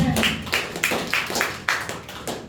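A church congregation claps in a steady rhythm, roughly two claps per second, the sound close and fairly loud, with a faint voice underneath.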